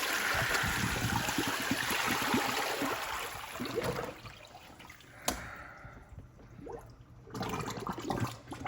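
Water poured out of a container during a cold water irrigation experiment: a heavy rushing pour that tapers to trickles and drips, a sharp knock midway, then a brief final splash, with no voices.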